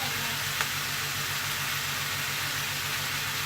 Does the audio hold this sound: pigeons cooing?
no